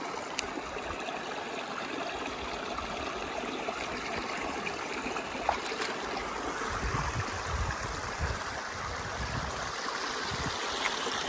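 A clear mountain stream in the Tatras rushes and gurgles over black stones in a continuous close wash of water, steady and fairly loud with no talking.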